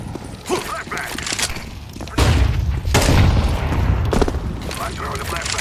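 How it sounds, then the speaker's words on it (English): A flashbang grenade going off in Counter-Strike 2, a loud close boom followed by a deep rumbling thump, with other gameplay noise and a voice talking around it. "I'm throwing a flashbang."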